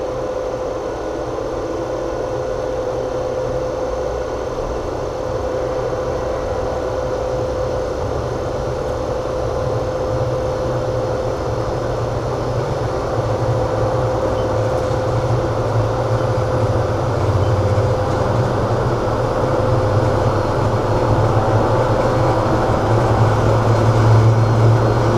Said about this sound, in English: The exhaust here is at 60 hertz, which is full speed.